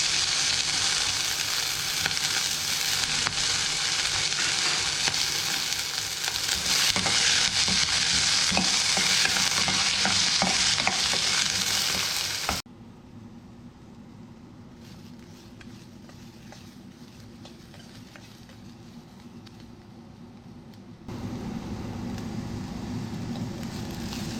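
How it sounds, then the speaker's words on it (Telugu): Chopped onions frying in a spoonful of oil in a kadai on a stove, loud steady sizzle with stirring for about half the time, then a much quieter frying hiss, no talk. "మొదట కట్ చేసుకున్నటువంటి ఆనియన్స్ను వేయించుకోవాలి"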